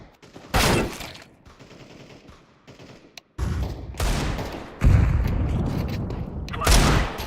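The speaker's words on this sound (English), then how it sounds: "Deploying flashbang. Laying down smoke." Flashbang and smoke grenade deployed in a shooter video game, sharp loud bursts and hissing blasts in separate bangs with gunfire-like crackle between quieter gaps.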